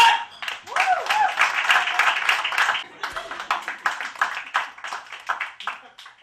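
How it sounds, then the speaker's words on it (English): Clapping from a comedy-club audience rises at once and continues in dense, uneven bursts that slowly thin toward the end, close and fairly loud, with a few faint shouts mixed in. "the sound of two hands coming together is applause"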